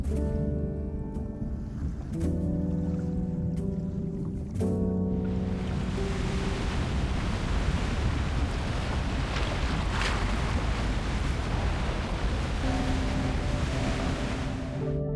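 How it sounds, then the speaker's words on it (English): Strong ocean waves from the video game Love & Deepspace surge in after a few sparse musical notes, a dense, steady roar of surf and wind that fills the rest of the scene at a constant, full level. "It's the waves. They're just too strong."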